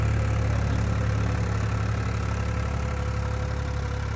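A tractor pulling a cultivator drones steadily across a farm field, a loud continuous engine rumble with a low hum and no break in level, heard alone without talk.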